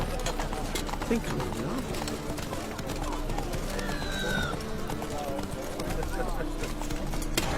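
Roach, a horse in the game The Witcher 3: Wild Hunt, gallops with steady clip-clopping hooves under continuous game ambience, while someone talks over it.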